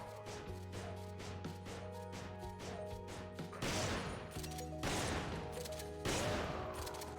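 The M3 shotgun from Resident Evil 5 fires a series of heavy blasts, several single booming shots with short gaps and crashing impacts between them, loud and close.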